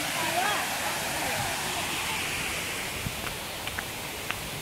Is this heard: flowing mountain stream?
yes